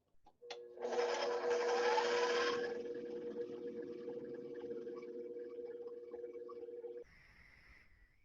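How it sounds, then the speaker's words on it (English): An electric mixer beating condensed milk for key lime pie whirs loudly, then settles into a steady lower drone for several seconds before switching off, close and alone. "I'm actually going to do this with the mixer on."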